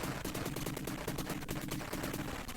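Rapid gunfire crackles in a video game firefight, a dense stream of sharp repeated shots with almost no gap between them. Grenades are constantly in the air during the exchange, and the shooting stays loud and busy throughout.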